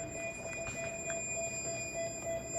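A door security alarm sounds a steady high-pitched electronic tone continuously, with a thin overtone above it, over faint background rumble and scattered clicks.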